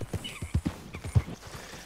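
Horse hooves clip-clop in Red Dead Redemption 2 during a short ride across train tracks: a loud, steady string of close thuds, with a faint whinny-like sound behind.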